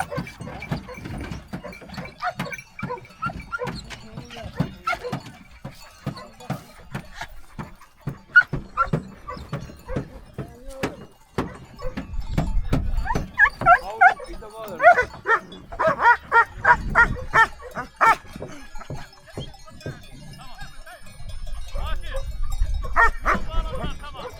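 Several shepherd dogs bark repeatedly in irregular bursts, some yipping and whimpering, with voices talking intermittently among the barking at moderate distance.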